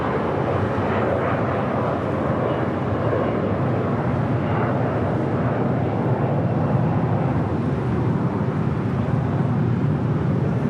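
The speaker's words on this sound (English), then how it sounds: "next up, for departure on 25 right here on the south side, United Airlines flight 1170 heading to Honolulu in a 777-200" A United Airlines Boeing 777-200 taking off from runway 25 right at LAX, bound for Honolulu, gives a loud, dense, rumbling jet roar that stays powerful and continuous throughout, with no voices.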